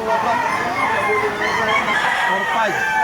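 Gamefowl at a Batangas market crow and cluck loudly nearby, several roosters overlapping throughout, with the market's background chatter beneath.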